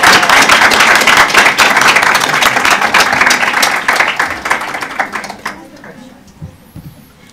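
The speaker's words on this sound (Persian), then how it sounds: "تشویقشون بفرمایید" Audience at a Masnavi recitation gathering applauds loudly in a dense, steady burst of clapping that fades over the last couple of seconds into quiet room noise.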